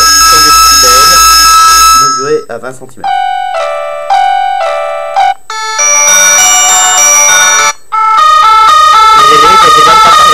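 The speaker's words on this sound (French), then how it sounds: "Vous avez des sonneries assez stridentes qui rajoutent encore une force en plus à l'importance du haut-parleur." A Classic Easy big-button mobile phone blares its loud, strident ringtones, reaching 100 decibels, cycling through several shrill electronic melodies with rapid repeating tones and short gaps between them, while someone speaks briefly over the start.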